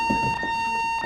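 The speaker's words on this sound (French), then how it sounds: "Le sac que tu as amené va déclencher l'alarme et ils vont devoir évacuer tout le bâtiment." A building alarm sounds one continuous, piercing electronic tone, loud and unbroken, with faint low movement and voices underneath.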